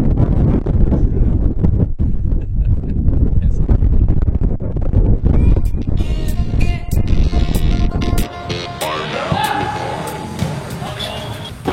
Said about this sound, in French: Il y aura du vent à mort.